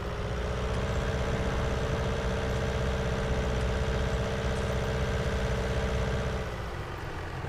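A John Deere 6110M–6120M tractor engine runs in Farming Simulator 19, a steady, even mechanical drone at constant pitch that cuts off near the end, with no talking.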